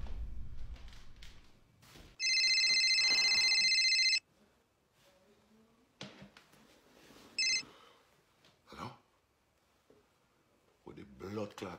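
A phone rings from an incoming call with a loud two-second electronic trill and a shorter second burst, among scattered talk and background voices.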